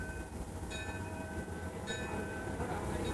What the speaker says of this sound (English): A ride on the miniature model steam train is popular with the kids